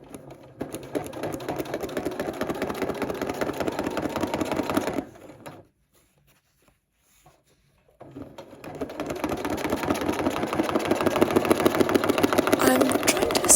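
A sewing machine stitches free motion appliqué on fabric scraps, a fast, steady mechanical whirr that stops for a few seconds of near silence midway, then resumes and grows louder and busier.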